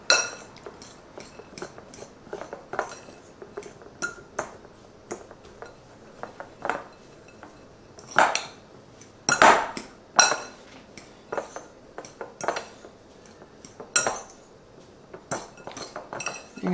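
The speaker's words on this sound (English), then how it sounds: "we're just going to stir it all in and blend it all in together" A spoon stirs a cauliflower tater tot mixture in a bowl for keto tater tots, producing irregular clinks and scrapes of utensil against the dish at close range, with quiet gaps between strokes.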